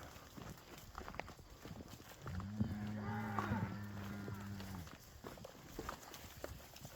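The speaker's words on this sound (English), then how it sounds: "Walking through a herd of cows." Cows in a herd give one long, close, low moo that lasts a couple of seconds, with faint hoof steps and rustling from walking through them before and after.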